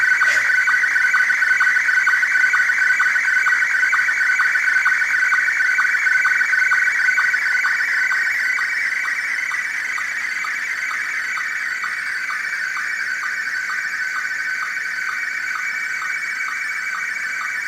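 Image pixel brightness values for red, green and blue encoded as transmitted sound: a continuous shrill, buzzing electronic tone with a rapid regular pulse, steady and loud throughout, slightly dropping in level partway, no voices.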